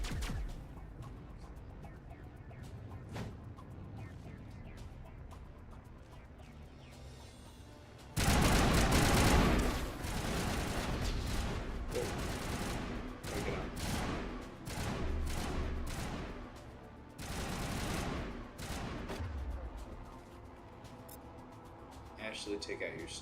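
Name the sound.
assault rifle gunfire in Mass Effect video game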